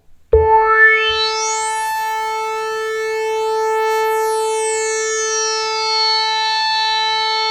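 A Korg Minilogue synthesizer plays a single held tone that settles at a medium sustain level with a fairly high filter cutoff, one loud bright note whose filter sweeps up and back down while it sustains alone.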